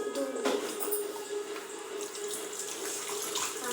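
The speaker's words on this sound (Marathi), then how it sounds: "आता मी याला धुवत आहे." A utensil being rinsed under a running tap in a sink, a steady close gush of water splashing with brief shifts as the item is moved under the stream.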